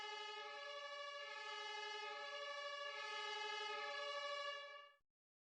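The F-104 fire truck in Emergency 2 leaves the base with a steady, harmonic siren-like tone that holds for about five seconds before cutting off, quiet and alone.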